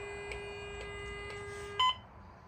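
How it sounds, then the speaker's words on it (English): A thin, faint electronic tone holds steadily from a Furby toy speaker test mode, then switches to a brief louder higher beep before cutting off. "Now it'll do a speaker test. It'll continue beeping until you let it go."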